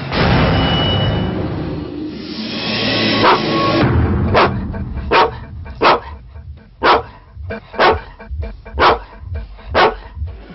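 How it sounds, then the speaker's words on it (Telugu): Dogs bark in a steady series of loud, evenly spaced woofs near a derelict mansion, following a stretch of noisy rumble. "భవనం వైపే చూస్తూ కుక్కలు మొరుగుతాయి"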